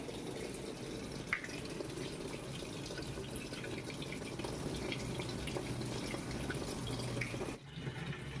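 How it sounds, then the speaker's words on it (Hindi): Tap water runs steadily into a washing machine tub, a constant moderate splashing fill with a faint clunk near the start and a brief dip near the end, no talking. "मैंने यहाँ पर टंकी को ऑन कर दिया है और इसके टैंकर में पानी फिल हो रहा है।"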